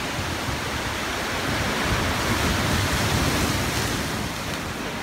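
Sea waves crashing on the Barcelona shore, a continuous broad roar of surf close by with a gentle swell in loudness midway, wind-like hiss throughout and no speech.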